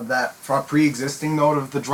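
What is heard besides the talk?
No everyday noises stand out.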